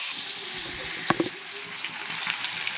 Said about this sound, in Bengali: আর এই ছোটো ছোটো করে কেটে রাখা আলুগুলো অন্যদিকে ভেজে নেব নুন আর হলুদ দিয়ে ভেজে নেব।